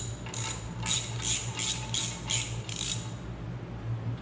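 A ratchet wrench with a socket turning bolts on the rocker arm cover of a John Deere engine, giving close, crisp clicking in about six or seven regular bursts, then a quiet stretch with a faint steady hum underneath.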